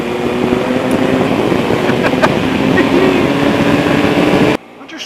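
A Triumph Explorer XC shaft-drive motorcycle accelerates on the road, its engine note a steady loud drone mixed with heavy wind rush at the microphone, dropping off abruptly near the end.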